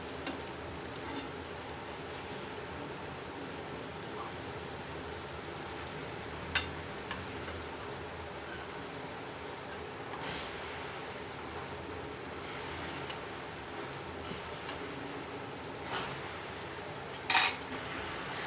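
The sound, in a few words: eggplant slices roasting in a pan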